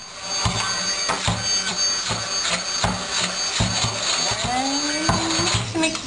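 A blender whirs steadily while mixing cauliflower mash, a continuous motor drone broken by repeated bumps and knocks as the contents churn, with a rising whine near the end.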